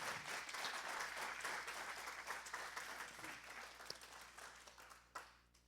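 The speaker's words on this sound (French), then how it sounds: "On peut l'applaudir, hein, s'il vous plaît." An audience applauds at a French-language talk on fraudsters' techniques, steady dense clapping from a large crowd that holds for several seconds and then thins out and fades.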